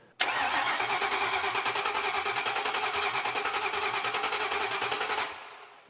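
The engine of an abandoned 1959 Pontiac Catalina project car cranks over steadily on its starter for about five seconds, a loud, rhythmic, even churning close by that stops abruptly, with no talking.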